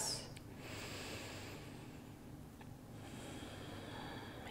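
Slow, deep breathing during a yoga pose, faint drawn-out breaths with soft airy inhales and exhales against a quiet room hum.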